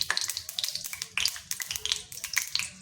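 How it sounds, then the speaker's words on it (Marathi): Pieces of edible gum (dink) frying in hot ghee, crackling and popping in sharp irregular bursts over a soft sizzle, close and moderately loud, with no talking. "आपण हा डिंक तळून घेणार आहोत"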